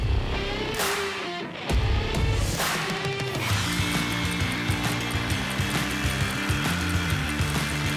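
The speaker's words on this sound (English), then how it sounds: "let's see what the new sawzall blade can do" Milwaukee Sawzall reciprocating saw with a new blade cutting into a tree stump, a loud, continuous rasping buzz with rapid strokes and slight changes in pitch.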